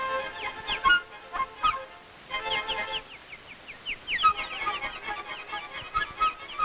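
A cardinal chick squawks insistently to be fed, its shrill, rapid calls repeating in bursts, while other birds chirp and chatter close by in the yard.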